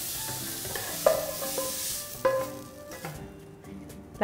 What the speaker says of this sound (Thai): ผัดถั่วงอกนะคะแค่พอสุกค่ะ